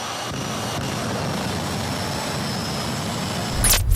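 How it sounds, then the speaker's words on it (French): A jet engine roars loud and steady, building in intensity toward the end with a rising whine. "Le turboréacteur démarre en vrombissant."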